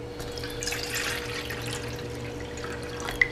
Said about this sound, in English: now to get us a little water going.